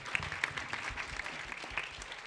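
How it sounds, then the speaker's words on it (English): Convention panel audience applauding, a dense wash of many hands clapping at moderate distance, steady through the short stretch without speech. "So let's have a Yes. hand for them."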